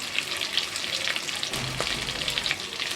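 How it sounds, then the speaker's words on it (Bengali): Hilsa fish frying lightly in hot oil gives a steady, soft sizzle with fine crackling throughout, close and fairly quiet, with a brief utensil touch midway. "মাছটা আমি খুব কড়া করে ভাজবো না, হালকা করে ভেজে নেব।"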